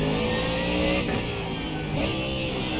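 Ford Mustang GT3 race car engine in the iRacing sim revving loudly and steadily, with two brief pitch dips as the car shifts or lifts, then climbing again.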